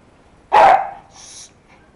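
A single loud dog bark, close and sharp, followed by a softer, higher whine-like yelp.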